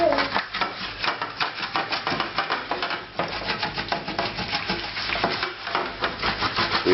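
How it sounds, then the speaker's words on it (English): Beef bones roasted and then deglazed with vermouth in a pan on high heat on the stove give off a steady, crackling sizzle with stirring and scraping noises throughout. "now it's on the stove. It's on a high heat. And I'm going to glaze this with some vermouth"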